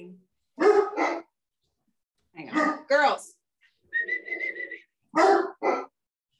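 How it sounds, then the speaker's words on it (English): Two dogs bark in short, sharp bursts indoors, with a high whistle-like whine between the pairs of barks, while someone speaks briefly nearby. "you guys listen to the dogs bark"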